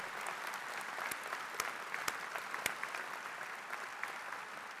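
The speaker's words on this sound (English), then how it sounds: "may I ask all of you to stand and give us a thank with a round of applause, please." Steady applause from a standing audience at a university graduate commencement ceremony fills the hall, continuous and fairly distant, with a few sharper claps standing out near the front.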